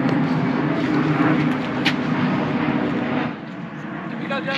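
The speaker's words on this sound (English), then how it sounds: "plane's always going ahead" A fixed-wing airplane drones steadily overhead during a countryside walk near Okewood, a broad continuous rumble that eases slightly toward the end.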